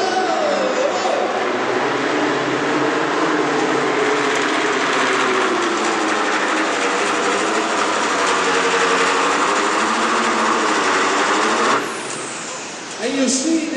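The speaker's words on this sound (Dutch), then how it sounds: "gaat hier proberen met een kleinere motor als de meeste in deze klasse" A small engine runs steadily at high revs in an indoor motorsport event, with a whining, rattling drone that holds for most of the clip, then drops briefly near the end.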